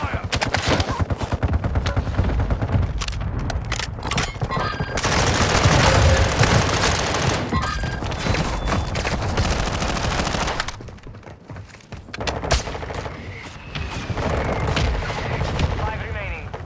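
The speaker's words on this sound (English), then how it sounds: "Taking effective fire!" Dense bursts of video game gunfire, rapid automatic volleys and sharp single shots with booming impacts, run loud and nearly continuous, briefly thinning before resuming amid the game's other sounds.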